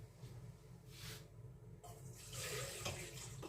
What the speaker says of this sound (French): on met l'eau en premier dans notre pétrin